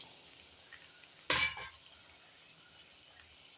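Steady hiss of jackfruit fritters deep frying in hot oil, with one brief louder splash and crackle partway through; no voices.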